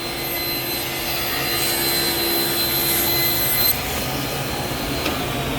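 Table saw running steadily while ripping walnut and cherry for an end-grain butcher block, a loud continuous whine with a sustained tonal hum that stays even throughout without talk.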